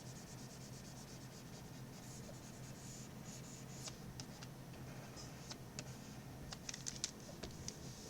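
A rubber eraser scrubs across a pencil drawing on paper with a soft, quiet scratching and rubbing, growing into quick bursts of short strokes toward the end.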